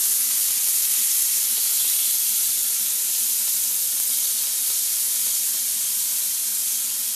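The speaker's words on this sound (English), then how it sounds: "add the chicken strips a few at a time in the hot pan" Chicken strips sizzle in a hot grill pan, a steady bright hiss and crackle of frying that holds at an even level from start to finish, with no talking over it.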